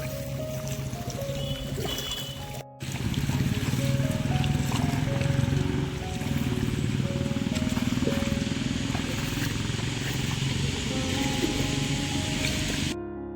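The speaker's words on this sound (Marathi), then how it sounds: "इकडे ट्रॅक्टर आला आहे चिखलणीला, आहे बघा." A tractor works through the deep mud of a paddy field being puddled, with its engine droning loud and steady. Water sloshes and trickles throughout, and the sound cuts out briefly near the start.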